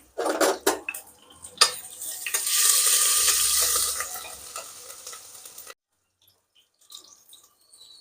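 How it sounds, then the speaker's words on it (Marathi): Ginger, garlic and green chilli hitting hot oil in a pan, with close metallic clinks of a spoon stirring, then a steady sizzle that swells and runs for a few seconds before cutting off to near silence. "तेल टाकलं आले लसूण हिरवी मिरची"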